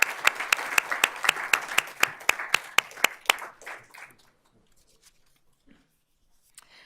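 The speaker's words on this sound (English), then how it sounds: "Let's give these teachers a round of applause." Audience applause for school garden teachers at an educational foundation recognition event: a burst of steady, rhythmic clapping close by that fades out after about three and a half seconds, leaving near silence.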